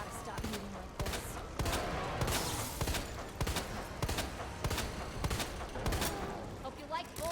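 Rapid repeated gunfire from the Resident Evil 2 Remake as the player empties a magazine into Birkin G5, sharp shots over a dense game soundtrack with creature noises and a voice talking over the action.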